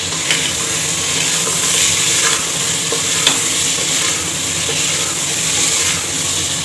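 Mutton with browned onion and ginger garlic paste fries in a pot, sizzling loudly and steadily while a spoon stirs and scrapes through it in repeated strokes.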